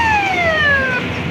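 A municipal fire engine responding to a village house fire sounds its siren in one loud, close, sliding wail that sweeps down in pitch and then breaks off.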